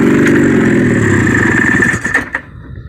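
A 1972 Honda Odyssey fitted with a swapped twin-cylinder 340 snowmobile engine fires up for the first time in 20 years. It gives a loud, close, buzzing two-stroke idle that sputters and cuts out after a couple of seconds.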